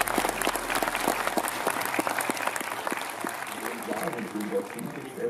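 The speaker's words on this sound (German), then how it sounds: "Ich bitte um einen großen Applaus" Audience applause at a talk marking fifty years since the Moon landing, a burst of many hands clapping close and lively, tapering off as a voice begins speaking toward the end.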